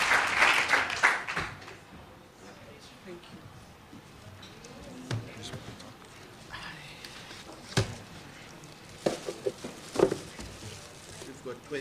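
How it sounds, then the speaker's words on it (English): An audience at a quality-as-transformation forum claps in a short, loud burst of applause that fades within two seconds, leaving a quiet hall with scattered shuffles and soft knocks. "Let's give a round of applause."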